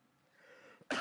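A man imitates a hacking coughing fit with a short vocal build-up followed by one sharp, loud cough burst at the end.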